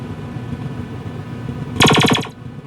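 A Star Trek arcade game's shield hit effect from a Sega G80 board set: a loud, harsh burst of rapid noise pulses, like fast machine-gun crackle, lasting about half a second over steady electronic hum.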